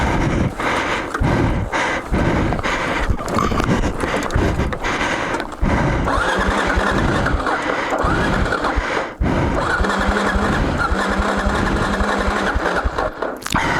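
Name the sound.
Royal Enfield Himalayan or KLR 650 motorcycle engine running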